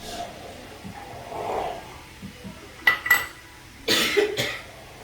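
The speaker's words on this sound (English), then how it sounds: "she walked away to cough and sneeze" A woman coughs a couple of times a little away from the microphone while cooking with pepper, followed by a sharp sneeze-like burst and a few light clinks.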